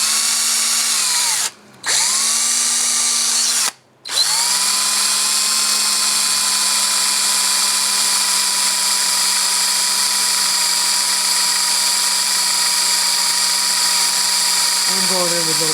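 Power drill whines steadily as it bores into a stripped cylinder head bolt on a Geo/Suzuki engine, a loud continuous high-pitched drone broken by two brief stops early on, then running unbroken to the end.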